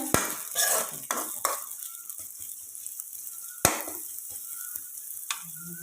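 Onions fry in a pan and are stirred, with a few scraping, clinking spoon strokes over a softer, steady sizzle close by.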